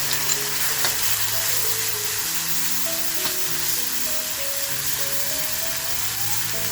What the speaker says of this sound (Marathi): आपल्याला हा मसाला अगदी खमंग परतवून घ्यायचा आहे